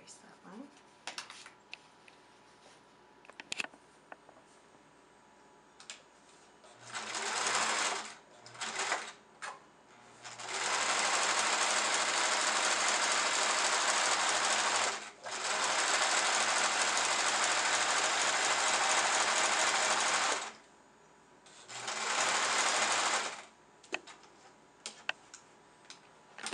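A sewing machine stitching a clutch bag runs in several bursts of steady whirring, some short and some several seconds long, with quiet pauses between them and a few clicks.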